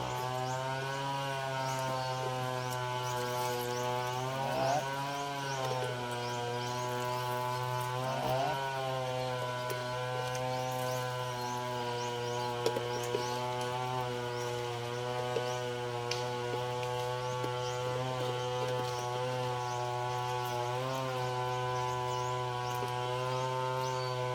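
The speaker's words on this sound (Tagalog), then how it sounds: "Sobrang ingay ng chinso." A chainsaw drones loudly and steadily on a farm, its tone wavering slightly as the throttle shifts, running continuously throughout with water flow in the background.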